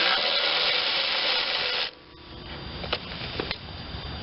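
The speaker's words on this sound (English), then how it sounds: "Well, I got the power tool in my hand." A power tool runs on the nuts of a Craftsman 33-gallon upright air compressor, giving a steady, loud mechanical whirr for about two seconds before cutting off, followed by a few sharp metallic clicks.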